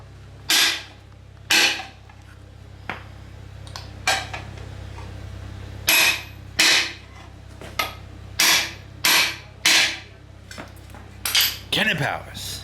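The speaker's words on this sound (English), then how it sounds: "Why must we hit everything with a hammer?" Sharp metallic clanks from a hammer beating on car parts near the transmission mount of a 496 big block engine, roughly a dozen close, loud strikes in uneven bursts over a low background hum, without speech.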